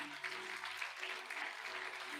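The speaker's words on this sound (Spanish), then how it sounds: "Si le va a aplaudir, apláudela." A church congregation applauds with a steady, moderately distant patter of many hands, continuous and evenly sustained.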